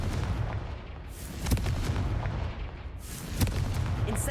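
Confringo blasting spells exploding in Hogwarts Legacy, a dense low rumble with a couple of heavier booming bursts around the middle and near the end, continuous and fairly loud with no voices.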